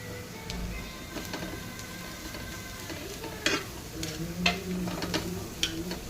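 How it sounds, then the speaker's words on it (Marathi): Tomato and ginger masala roasting in a pan, giving a soft, steady sizzle with occasional scraping and stirring clicks at moderate distance. "अगदी असा थोडासा रंग बदलेपर्यंत भाजायचा आहे"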